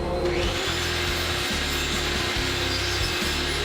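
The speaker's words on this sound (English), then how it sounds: "Just on the table saw." A table saw cutting pine trim into quarter round, a close, loud, continuous whining cut with a rhythmic low pulsing underneath through the whole stretch.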